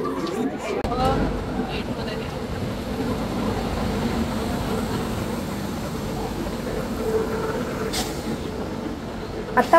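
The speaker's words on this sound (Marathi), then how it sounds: "आता ओखा एर्नाकुलम ट्रेन आलेली आहे" The Okha–Ernakulam long-distance express pulls into a crowded Indian railway platform, a continuous low rumble of rolling coaches under constant passenger chatter and station noise.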